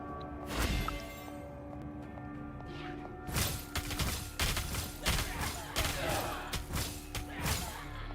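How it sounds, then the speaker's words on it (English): Gunfire in a video game, a scattered run of sharp broadband cracks and thuds, some loud and close, over a steady droning game soundtrack. "Stop shooting at me"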